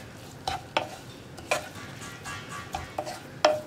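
Beetroot and coconut thoran is stirred in a pan: a handful of distinct, close scraping strokes, irregularly spaced, over a soft steady sizzle.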